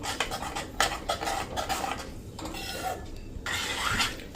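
A spoon scrapes and clinks steadily against a metal pan as curd is stirred over a medium gas flame, with continuous stirring noise close by and no talking.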